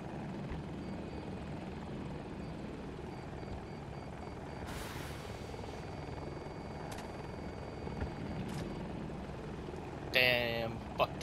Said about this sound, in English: I'm winning the dogfight on a heli.